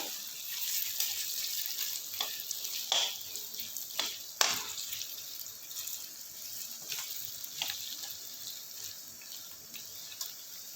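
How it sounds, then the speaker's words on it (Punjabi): Bitter gourd frying in a pan, with a steady moderate sizzle and occasional sharper crackles and stirring scrapes, heard close up and with no talking. "ਹੁਣ ਇਹਨਾਂ ਨੂੰ ਆਪਾਂ ਚੰਗੀ ਤਰ੍ਹਾਂ ਭੁੰਨ ਲਾਂਗੇ ਕਰੇਲੇ ਆਪਾਂ ਤਲ ਕੇ ਕੱਢ ਲਾਂਗੇ"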